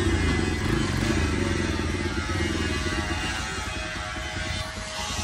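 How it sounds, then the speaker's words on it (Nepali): A motorcycle with a freshly tightened handlebar is ridden on a test drive, its engine a steady low rumble with faint rattling that eases slightly toward the end. "बाइकको ह्यान्डल चाहिँ टाइट भयो होइन। अब टेस्ट ड्राइभ हानौँ"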